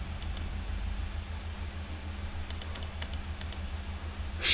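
Faint clicks of typing on a computer keyboard, a few quick scattered keystrokes over a steady low hum of fan noise, with a louder rustle at the very end.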